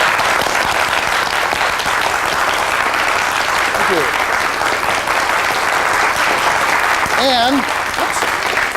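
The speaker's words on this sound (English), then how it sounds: "there's nothing left but a tremendous round of applause" A tremendous round of audience applause, dense steady clapping that fills the whole stretch at full level, with a voice briefly speaking over it near the end.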